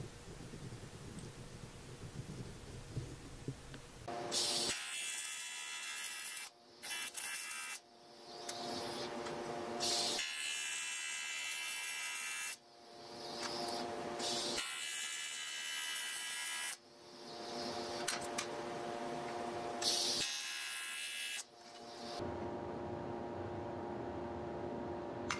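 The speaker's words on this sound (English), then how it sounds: "I think I'll weld the edges first." Electric welding along the panel edges of a Corvair undergoing a V8 swap: several loud, sustained bursts of crackling buzz, each a few seconds long and separated by short silent gaps, up close with no talking.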